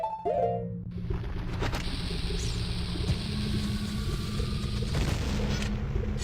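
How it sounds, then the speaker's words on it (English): An explosion from the Dodongo boss chamber in the video game Zelda: Ocarina of Time gives a loud, sustained rumbling boom that fills the whole stretch after a short falling tone, with no voices over it. "Cool guys don't look at explosions."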